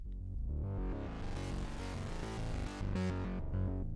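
A synthesizer plays a rhythmic note pattern whose tone turns duller and darker as a low-pass filter closes, then briefly opens again near the end.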